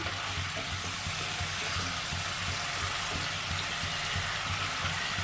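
Boal fish pieces sizzle as they go into hot oil with frying mustard paste, a continuous loud crackling hiss with no talking.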